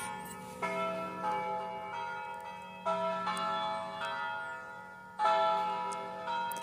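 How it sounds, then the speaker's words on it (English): A church bell rings out several times in slow, spaced strikes, each tone lingering and fading before the next, heard from a distance beside a creek with no talking. "I love the sound of the church bell when I'm fishing here"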